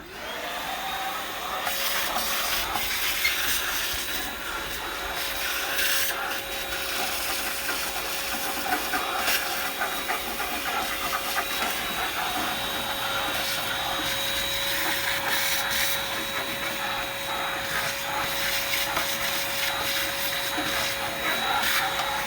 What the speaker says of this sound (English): Watch the dog because the vacuum's going to get loud.